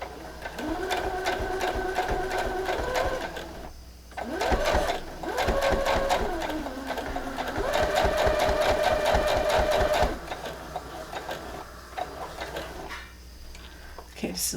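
A sewing machine stitching quilt binding on a diagonal, running in steady whirring bursts that pause and restart, close and clear, with a voice talking in between.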